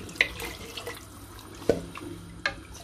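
Water goes into a pressure cooker over white beans for a Moroccan stew, heard as faint splashes and a few distinct drips against a quiet kitchen background.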